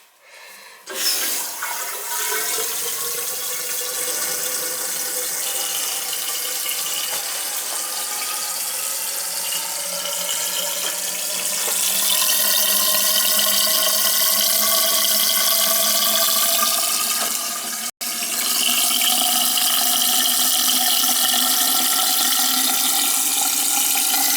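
Cold water rushing from a hose through an old, leaking washing machine drain, a loud steady gush with rising pitch as the pipe fills, lasting throughout with one brief cutout.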